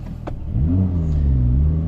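A Porsche 718 GTS 4.0 engine with an open Inconel exhaust revs up and holds a rising, throaty drone with a strong low rumble, close by and loud.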